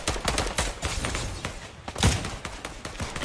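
Video-game gunfire in Fortnite Battle Royale, with repeated sharp shots and bursts in a steady stream, plus a louder thud near the middle, with no talk over it.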